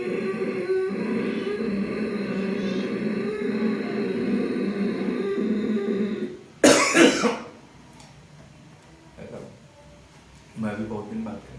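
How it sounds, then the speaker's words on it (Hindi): A person coughs once in a sharp, loud burst during a yoga breathing exercise, followed by a quieter cough-like sound, with someone talking before and after. "आपको खांसी तो आई नहीं, लेकिन खांसी आ गई।"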